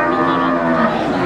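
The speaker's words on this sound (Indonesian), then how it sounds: "Seperti ini, sapi-sapinya." A cow at the Kliwon cattle market in Wirosari lets out one loud, sustained moo up close, filling the whole moment with a rich, steady drone.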